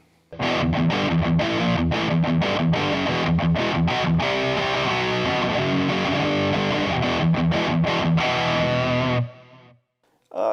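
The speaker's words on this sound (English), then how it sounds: "Some American Distortion." American Distortion preset on a Mooer GE200 Plus Li multi-effects unit, a loud, dense distorted electric guitar riff with chopped rhythmic chords running steadily for about nine seconds before cutting off, no talking.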